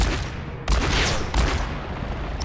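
Gunfire in the Overwatch beta, a dense, loud barrage of sharp cracks and booms that keeps going without a break, with two heavier blasts standing out in the mix.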